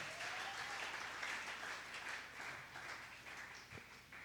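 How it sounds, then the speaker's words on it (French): A church congregation giving applause to the Lord, sustained clapping from a crowd of worshippers that stays dense and even, faint and somewhat distant, rolling on for several seconds before easing slightly. "Est-ce qu'on peut acclamer pour le Seigneur?"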